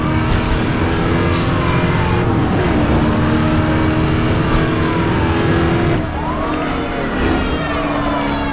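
A police car siren wails and sweeps in pitch over a loud, revving car engine during a high-speed pursuit in the racing game Need for Speed Hot Pursuit, steady and close throughout with no voices.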